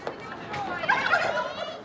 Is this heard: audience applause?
no